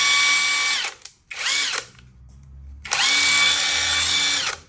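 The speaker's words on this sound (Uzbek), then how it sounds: "Gaykayorti ham 2 xil skorostda ishlaydi." A Makita impact wrench whirs loudly in two bursts, its motor winding up and down, separated by a short pause with a low rumble.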